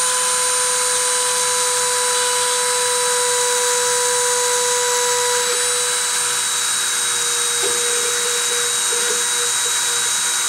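A spindle motor spun at 30,000 RPM for deposition whines steadily with a high pitched, constant tone and airy hiss throughout, loud and close, with no speech.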